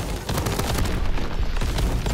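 Rocket launcher shots in Crab Champions pound out as a dense, loud run of booming blasts and rumbling explosions with no pause.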